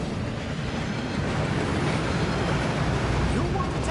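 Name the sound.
waterfall rushing in the bank vaults, from a video game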